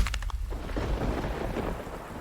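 Lightning-strike thunder in a Hindi audio drama fight scene: a sharp crack at the start rolling into a deep, sustained rumble with a rain-like hiss, loud and close, with no voices.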